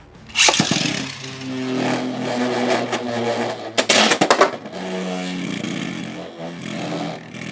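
A Beyblade X top, Hells Reaper in its tall full build with added weights, is launched and spins with a steady, droning whir. A sharp burst of clattering hits near the middle, and the spin hum continues without voices.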